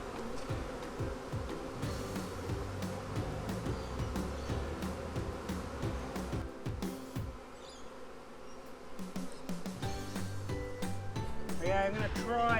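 A honeybee swarm being caught from a high treetop with a net drones in a continuous near buzz, with individual bees whining past. Clicks and handling noises sit on top, and a voice speaks briefly.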